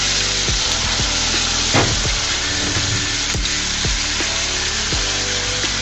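Potatoes frying in a pan while being stirred, a loud continuous sizzle with repeated scraping strokes and knocks of the utensil, close up and without talk.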